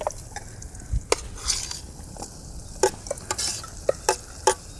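Tomatoes drop into a hot pan for a village-style Gujarati corn chevdo, giving a soft steady sizzle broken by several sharp scrapes and clinks of a spoon stirring against the pan.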